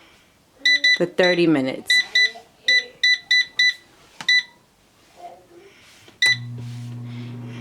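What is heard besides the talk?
air fryer control panel beeps while setting temperature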